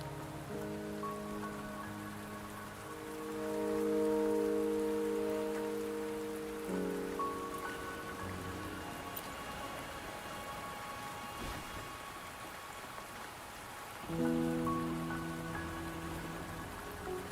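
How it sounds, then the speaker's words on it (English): Rain falls in the video game Wuthering Waves as a steady wash of patter under sustained musical tones, with a faint rumble of thunder in the middle and no voices. "the rain won't last much longer"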